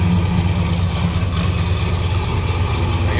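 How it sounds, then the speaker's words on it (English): The original 350, 300-horsepower engine of a 1970 Chevrolet El Camino idles, heard from behind the car. A deep, steady exhaust rumble stays continuous and fairly loud throughout. "Nice little rumble coming out of the back."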